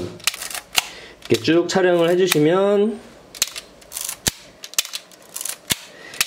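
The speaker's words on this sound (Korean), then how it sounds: "이렇게 셔터 감아주시고 초점 맞추고 촬영" A Minolta Hi-Matic G film camera is wound and fired, with a run of sharp mechanical clicks and a ratcheting shutter advance spread through the stretch, alongside a person speaking close by.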